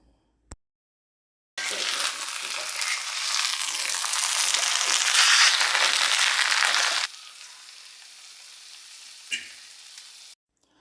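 Tapioca stirred in a pan of hot coconut oil with mustard seeds and curry leaves: loud, close sizzling and frying for several seconds, then a quieter hiss with a brief scrape near the end, no talking.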